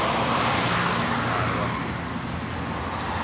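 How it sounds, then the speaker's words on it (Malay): Traffic rumbles past on a busy main road beside a fruit garden, a steady loud wash of car engines and tyre noise with one vehicle swelling by early on before the roar eases slightly. "Ini jalan raya ni. Jalan besar. Bising."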